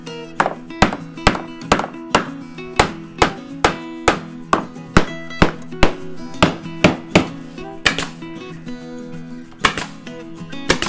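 Wooden pillar being fitted into a carpentry joint on a Japanese-style veranda renovation, struck by a run of about twenty sharp, evenly spaced wooden knocks, loud and close, with no talk.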